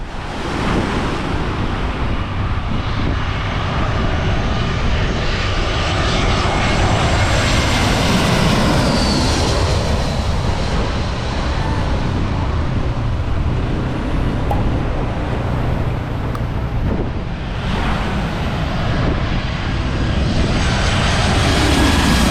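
Airplanes landing at an airport on St Martin, a loud sustained jet engine roar with rushing wind and a swelling, fading pass.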